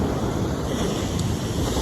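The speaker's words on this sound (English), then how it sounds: "these are some big waves for around here" Big ocean waves crash and surge on a shoreline in Antique, Philippines, a loud, continuous roar of surf and wind noise with no pauses.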